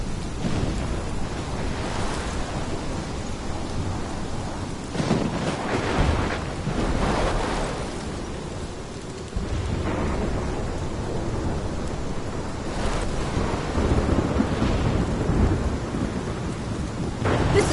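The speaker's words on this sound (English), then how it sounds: "My storm! I caused this!" A thunderstorm in the video game Life is Strange roars continuously, with wind and rain and repeated swelling rumbles of thunder throughout.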